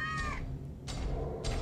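An animatronic cat in the Case: Animatronics 2 video game lets out a short high meow, followed by two fainter breathy bursts over a low droning ambience.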